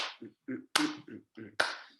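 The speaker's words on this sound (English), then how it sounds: "So here again is that if this is my clap" A single person's hand claps in a music theory lesson, six sharp, close claps spaced in an uneven rhythm, each one crisp and isolated against silence.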